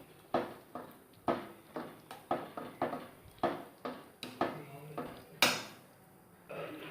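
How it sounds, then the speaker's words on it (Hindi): A spoon stirs thick carrot halwa in a pan with a steady series of a dozen or so knocks and scrapes against the metal. The strokes are fairly close and moderately loud. "अब हम मिक्स कर लेंगे एकदम से इसको।"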